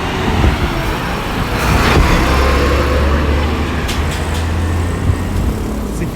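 Busy roadside traffic coming off the East Bank on the way toward Georgetown, a loud, close, continuous rumble of cars, buses and trucks passing with engine drone and occasional peaks.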